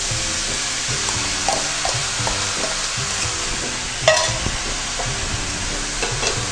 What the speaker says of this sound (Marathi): आणि त्यानंतर हे हळूहळू मिश्रण ढवळत राहावं.